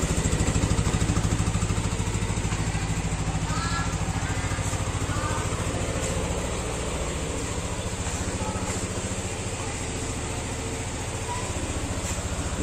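A motorcycle engine, started remotely by an alarm system, idles continuously and close by with a steady, even mechanical hum and a faint rattle, no voices over it.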